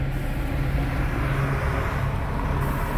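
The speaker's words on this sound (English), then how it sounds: "A lot of tour buses." Steady, moderately loud road noise from tour buses and other vehicles rolling past near the Daytona speedway during Speedweeks, a continuous low rumble with no distinct pass-bys and no talk.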